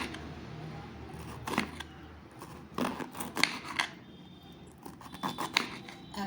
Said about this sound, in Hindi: ऐसे आप पतला पतला स्लाइस काटेंगे।